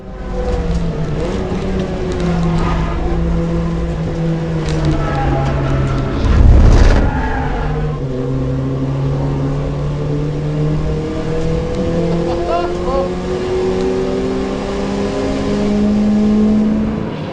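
Race car engine at full effort on a lap of Pukekohe circuit, a loud, steady in-car drone with rising and falling pitch through gear changes and a brief harsh burst midway.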